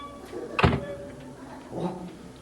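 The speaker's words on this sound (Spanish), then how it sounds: "Ahora cierra la puerta, Carlos." A door closes with a single solid thunk, followed by a softer knock a second later, set against quiet room background.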